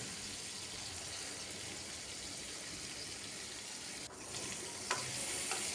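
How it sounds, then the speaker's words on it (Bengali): Pointed gourd (potol) frying in hot oil with a steady, close sizzle throughout, broken near the end by the scrape and clatter of repeated stirring. "বারবার নাড়িয়ে এইভাবে একটু লাল লাল করে ভেজে নিচ্ছি।"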